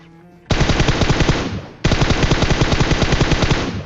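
Automatic gunfire in the mobile game PUBG Mobile: two loud, sustained bursts of rapid machine-gun shots, the first about a second long and the second running to the end, with no talking.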